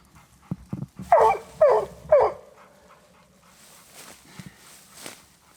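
Hunting dogs being tied up on a mountain lion hunt give three loud, close barks in quick succession, with a few fainter yips and rustling around them.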